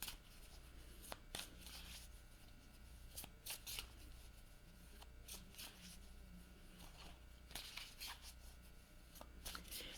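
Tarot cards are shuffled by hand in repeated quick riffles and flicks, crisp bursts spaced irregularly through a quiet, close room.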